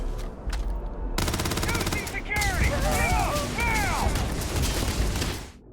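Rapid automatic gunfire from the video game Starfield, a dense rattling burst of shots running almost the whole time at close range, mixed with whooshing game effects and tonal sweeps.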